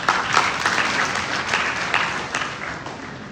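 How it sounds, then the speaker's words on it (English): A conference audience at a bar association election gathering in Kenema gives a full round of applause, dense steady clapping that tapers slightly toward the end. "A round of applause."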